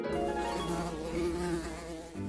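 A bee buzzes steadily and close, its droning hum continuous for about two seconds with a slight wavering in pitch and no other sounds.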